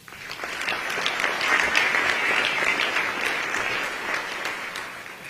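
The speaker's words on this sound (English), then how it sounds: "Please give yourself a round of applause." A large crowd applauds at a big community event with Prime Minister Modi in Silicon Valley. It swells quickly into continuous, even clapping, holds for several seconds, then eases slightly, with no talking over it.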